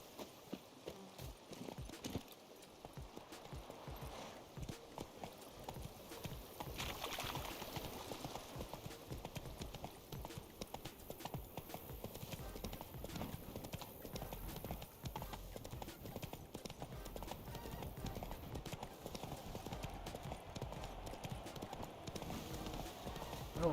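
Roach, a horse in The Witcher 3: Blood and Wine, gallops with a continuous, rapid clip-clop of hooves on the ground, and a voice talks over parts of it.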